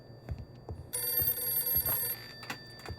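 A telephone rings indoors in a quiet room, a single sustained bright electronic ring lasting about a second, with soft background bumps and faint ambient noise around it.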